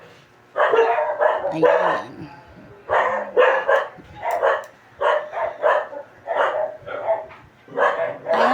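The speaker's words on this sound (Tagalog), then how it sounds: "Sumabay pa yung aso eh." A dog barks in repeated short bursts at close range, with a person speaking briefly at the start.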